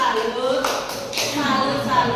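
A classroom group does a tepuk salut salute clap: a few sharp, quick hand claps break through amid voices talking close by.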